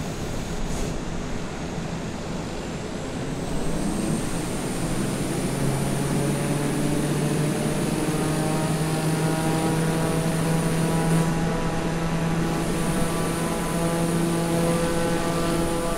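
Propeller airplane engine in Microsoft Flight Simulator 2020 droning loud and continuous, a steady harmonic hum that rises slightly in pitch after a few seconds and holds alone throughout.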